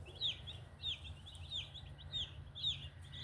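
Second-day meat bird chicks peep and cheep in a steady, overlapping chorus while feeding, repeated high calls over a low constant hum of brooder lights or fans.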